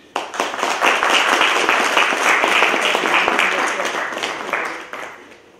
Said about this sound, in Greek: Θα ήθελα σας παρακαλώ ένα χειροκρότημα και για τους τέσσερις.